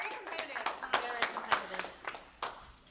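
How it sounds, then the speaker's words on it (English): Audience applause for a woman named Mindy at a Florida Jaycees event with a motivational speaker, scattered claps rising in short bursts at moderate distance, with talk mixed in. "Let's give Mindy a big round of applause."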